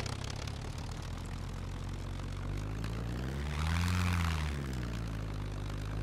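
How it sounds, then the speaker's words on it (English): Propeller airplane engine in the survival game SCUM, a steady droning hum with harmonic tones that swells louder around the middle as the aircraft passes close, then eases back to a constant background whine. "But they did change the sound effects on the airplane."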